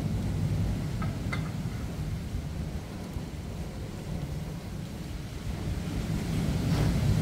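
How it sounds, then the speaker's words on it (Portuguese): Strong wind buffets a beach campsite, a low rumbling roar of gusts against the microphone rising and falling, with surf-like noise underneath and no talk. "Tá entrando vento ali pela, pela porta ali."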